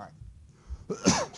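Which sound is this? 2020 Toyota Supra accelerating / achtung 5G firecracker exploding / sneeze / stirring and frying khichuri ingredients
sneeze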